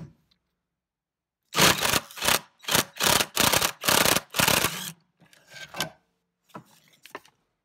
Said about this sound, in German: Aber genau hier drunter mittig sitzt eine 17er Schraube. Und die werden wir dann einmal lösen.